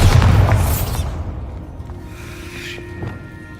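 A Bombarda explosion spell in the video game Hogwarts Legacy: a loud, deep boom up front that rolls off into a fading rumble and faint magical shimmer.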